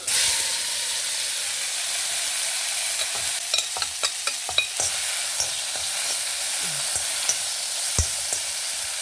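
Steady sizzling of bitter gourd frying in a spoonful of oil in a pan, with a run of scraping, clinking spatula strokes as it is stirred, close and continuous.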